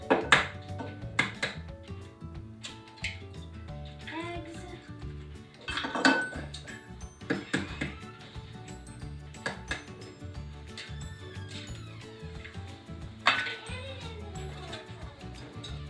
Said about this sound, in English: So now I'm going to whisk these 2 eggs.